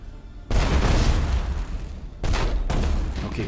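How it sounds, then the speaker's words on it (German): Heavy bursts of space-battle weapon fire from the game Battlefleet Gothic: Armada boom and crackle in two loud, sustained volleys, like sci-fi guns. "man hört die Schüsse so sehr im Weltall"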